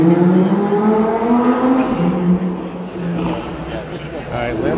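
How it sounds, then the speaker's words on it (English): A Lamborghini Huracan Evo at a supercar Saturday fundraiser rumbles past with a steady, loud engine drone that dips and swells slightly, heard under ongoing conversation from nearby people. "that Huracan Evo is coming back over here"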